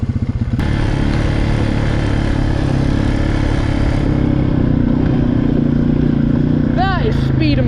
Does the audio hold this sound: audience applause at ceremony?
no